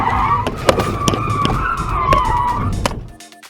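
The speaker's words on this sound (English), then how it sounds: "the driver of a white van blew through a stop sign and T-boned her Chevy Spark" A white van runs a stop sign and T-bones a Chevy Spark: a loud, sustained tire screech with sharp, repeated impact cracks, then an abrupt cutoff.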